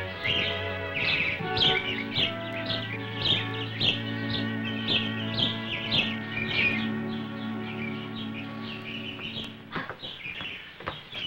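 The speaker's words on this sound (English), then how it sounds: "Pesky birds with their singing." Many birds sing and chirp together in a steady, busy chorus, with bright repeated calls layered over one another throughout, fairly close and loud, with no talk.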